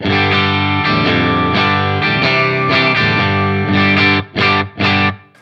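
An electric guitar plays chords and single notes through the clean channel of a PT100 amp, set neutral to dark, full and sustained, ending with a few short strummed bursts.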